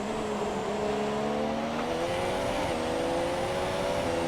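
Formula 1 race car engine in the F1 2017 game at the Canadian race, a close, continuous high-pitched scream that climbs steadily in pitch as the car accelerates, with no talking.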